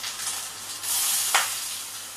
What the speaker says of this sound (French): Je vais mettre les oignons dedans.